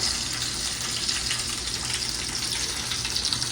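A steady loud hiss of sizzling and rushing water fills the space without pause, close and constant.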